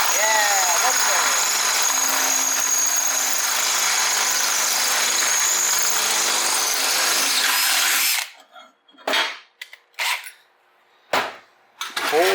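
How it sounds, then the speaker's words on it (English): A battery power drill bores a hole for Honda Shadow custom shifter and brake pegs, a loud continuous whine lasting about eight seconds, then stopping, followed by a few short bursts and a voice. "Hole has been drilled."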